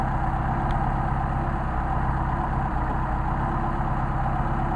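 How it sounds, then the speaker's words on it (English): A Mercedes 190SL engine idling on Solex carburetors, a steady, loud, close rumble with an even low pulse throughout and no talk. "we will see how low these will go, how low they will idle"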